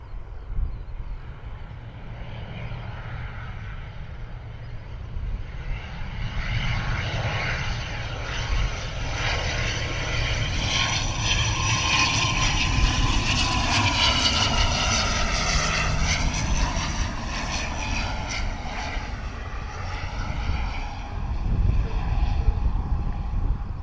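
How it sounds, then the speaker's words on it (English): An ATR turboprop airliner arriving and landing at Bristol Airport, with a steady propeller and engine drone that swells gradually as it passes closer, sustained and fairly loud for the whole stretch with no talk. "What a smooth arrival from the ATR, eh? Looking very smooth."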